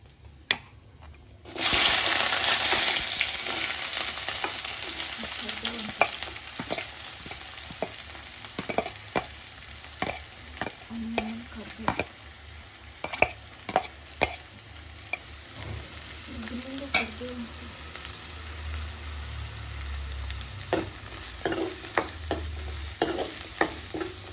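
Mustard seeds, cumin and onion sizzle in hot oil after a sudden hiss as they go in, followed by a continuous frying crackle broken by repeated sharp scrapes and clinks of a spoon stirring the pan.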